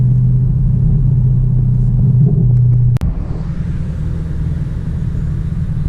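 A Ford GT500 rumbles past, its deep, loud, low engine drone steady before a sharp break near the middle and then a lighter rumble that continues, with no talking.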